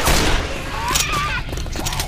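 Gunfire in Left 4 Dead 2, a dense burst of rapid overlapping shots close up, with a whistling tone partway through and softer shots trailing off.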